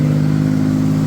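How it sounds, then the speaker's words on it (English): Toyota T100 pickup engine idling high with a tight, stretched throttle cable, a steady loud droning hum with mechanical clatter, continuous and unchanging, with no voices. "Wow, it's idling high"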